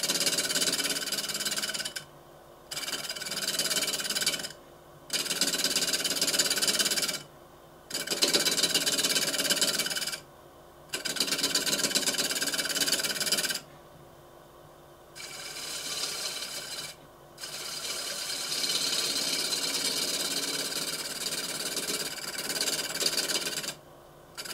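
Cherry wood bowl with wings turning on a lathe while a tool shapes the inside, making a steady scraping rasp in repeated passes of a few seconds each, separated by short quiet pauses.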